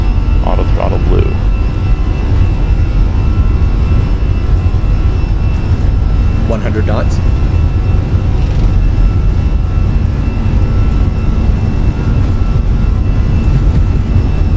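Airliner jet engines held at takeoff power in a flight simulator, a loud, steady, unbroken roar throughout with faint brief higher tones over it.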